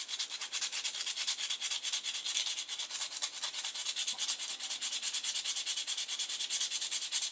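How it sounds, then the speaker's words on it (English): Sandpaper rubs back and forth across a silicone-cast copy of a hard fishing lure, making a close, fast, regular rasping stroke that repeats steadily throughout. "I'm going to switch to a finer sandpaper in a minute"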